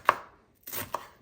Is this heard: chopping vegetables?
yes